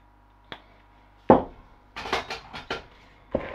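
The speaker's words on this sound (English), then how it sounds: "So in with a good glug of sherry and give it a good mixing." Christmas pudding mixture being stirred with sherry in a 3-pint pudding basin, heard as a few sharp knocks and scraping clatters of a spoon against the bowl, spaced irregularly and close up.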